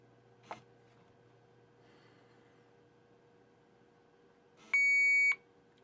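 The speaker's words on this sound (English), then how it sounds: "Switch warning, and then you get the beep from the switch, from the beeper" A RadioMaster TX12 radio transmitter sounds its switch warning at power-on: a faint click early on, then a single steady electronic beep lasting about a second, clear and close over a quiet background hum.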